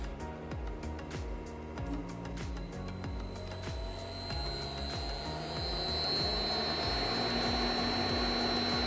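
A variable frequency drive powers up a motor at no load, producing a steady electrical whine with sweeping tonal harmonics and a faint rhythmic pulsing that swells slightly partway through.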